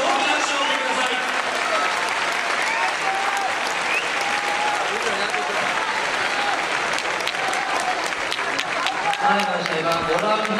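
Large crowd at a boxing event applauding Kazuto Ioka after a knockout win, a sustained dense roar of clapping across the whole stretch, with an announcer's voice faintly over it.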